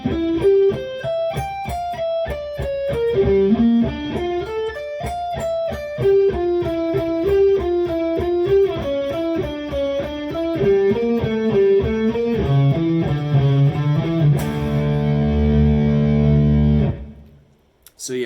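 A distorted electric guitar plays a rapid neoclassical arpeggio sequence for most of the passage, ending on a sustained low power chord that rings out and stops.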